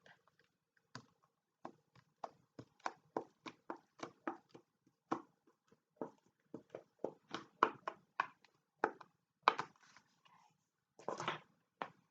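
Brush or sponge tapping paint onto cardboard in a sensory art activity, a series of short dry dabs in irregular rhythm, close and fairly quiet, with no talking.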